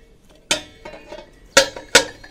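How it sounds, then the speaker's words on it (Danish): A metal pan set onto a Cadac Safari Chef 2 camping grill, giving a few sharp metallic clanks and clinks, close and distinct against near silence. "Så lægger vi panden op."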